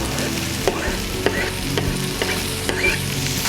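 Peppers, onions and garlic sauté in bacon fat, giving a steady close sizzle as they are stirred, with a few sharp spatula clicks against the pan spaced through it and no talking.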